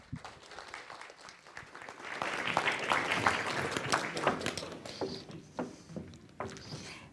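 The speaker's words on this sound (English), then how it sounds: "How about a big round of applause for today's speaker, Linda Drake." An audience applauds a speaker's introduction, the clapping swelling after a couple of seconds into a sustained, full round before gradually thinning out.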